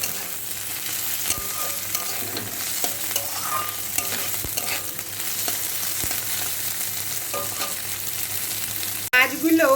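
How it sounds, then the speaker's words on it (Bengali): Loitta dried fish is stirred and fried in a pan, a steady sizzle under frequent scraping and tapping strokes of the spatula, ending in a sharp clatter. "ভালো করে নাড়াচাড়া করে অনেকক্ষণ ভেজে নেব"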